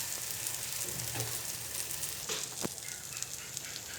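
A spinach dosa fries on a hot pan with a steady close sizzle, plus a few brief crackles and scraping touches partway through. No voices.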